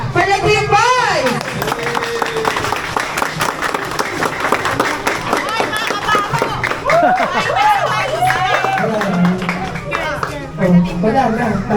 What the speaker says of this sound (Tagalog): palakpak lang pala